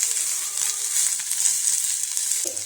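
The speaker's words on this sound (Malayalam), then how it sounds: "നമ്മൾ അരിഞ്ഞു വെച്ചിരിക്കുന്ന ചെറിയുള്ളിയും വെളുത്തുള്ളിയും കൂടെ ഒരുമിച്ചിട്ട് കൊടുക്കുക" Shallots, garlic and onion frying with coconut pieces for a jackfruit seed curry, a bright steady hiss of hot oil, close and even, with a small knock near the end.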